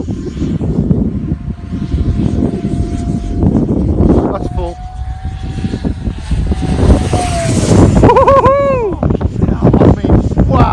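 A radio-controlled Vampire jet model with a 70mm 12-blade Wemotec electric ducted fan flies past on a very windy day, its whine rising and sweeping in pitch under heavy wind buffeting and people talking nearby.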